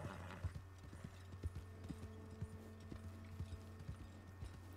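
Horse hooves clip-clop at a steady walking rhythm in the Red Dead Online video game, soft and even, with faint mechanical clicks underneath.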